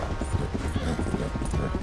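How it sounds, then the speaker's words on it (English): Horse hooves gallop in a fast, steady clip-clop rhythm in the video game Red Dead Redemption 2, loud and close over a dense game background. "that's because aggro is one of the fastest horses, right?"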